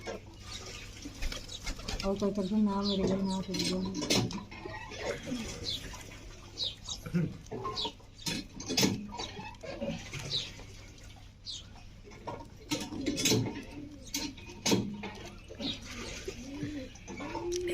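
Village pigeons kept as a hobby coo softly in low, throaty bursts around a small loft, faint and intermittent beneath people talking nearby with scattered clicks and rustles.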